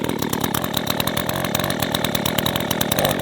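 An Echo HC-2020 hedge trimmer's small two-stroke engine running close and loud, with a buzzing, sputtering rhythm as it warms up.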